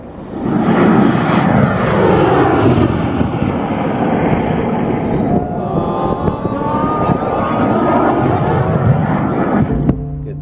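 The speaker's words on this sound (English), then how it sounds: "This is a rocket launch that we did 18th of April 2015 in Mojave Desert in California." Roar of a rocket launch in the Mojave Desert, California, the vehicle flying on 3D printed rocket engines; a loud, sustained broadband rumble that holds steady for about ten seconds before cutting off abruptly near the end.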